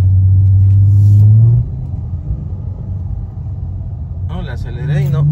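A 2014 Dodge Charger with the 3.6 engine and a running fault gives a loud rumbling idle. Near the start there is a brief push on the throttle that stumbles and sags, then a rough uneven idle continues, with brief talk near the end.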